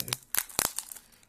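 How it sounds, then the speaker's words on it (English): Crinkly plastic wrapping being pulled off a board game box, three or four quick, close crackling crunches within about a second. "Ooh, lovely crinkly sound."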